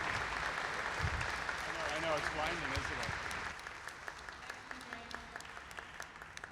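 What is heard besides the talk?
applause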